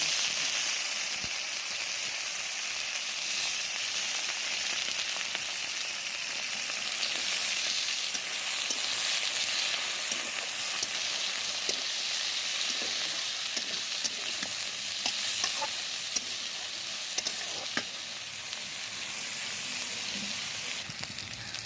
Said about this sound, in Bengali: আর এখানে আমি পেঁয়াজ দিয়ে দিলাম, পেঁয়াজটা ভেজে নেব। তারপর আলু দিব।